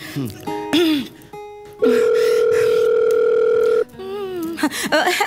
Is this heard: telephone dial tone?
yes